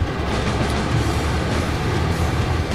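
A video-game train rolls past loud and close, a steady broadband rumble of wheels on rails with faint clickety-clack and no pauses, while a car drives alongside it.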